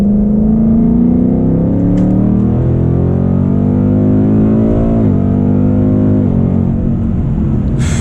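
A sports car engine pulls hard and loud in third gear, its pitch climbing steadily, briefly dipping at a gear change and rising again, close and continuous.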